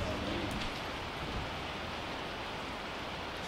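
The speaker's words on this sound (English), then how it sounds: "It's the fucking rain." Steady rain falling outside the Keyport Funhouse, a constant dense hiss of drops on surfaces filling the clip evenly without pauses or voices.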